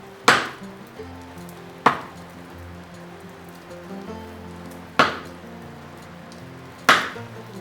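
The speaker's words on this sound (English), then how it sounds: "To cut a notch, I chisel the top and bottom." Chisel strikes cutting notches into the top and bottom of wooden louver rails during entrance carpentry work, four sharp, well-spaced knocks over a quiet room background.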